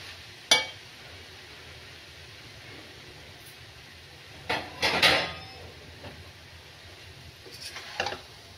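Metal utensils clatter against pots and dishes in a kitchen while a coconut laddu mixture is handled, with a sharp clank early on and a cluster of scraping clinks later over quiet background.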